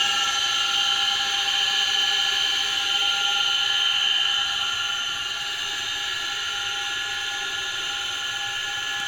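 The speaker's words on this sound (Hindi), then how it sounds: "चलिए स्टार्ट करते हैं मोटर को। देख रहे हैं हमारा मोटर स्टार्ट हो चुका है।" A 3 hp induction motor, switched on with a dual starter, runs steadily with a constant mechanical whine and hum, loud and close with no pauses, slightly easing after a few seconds.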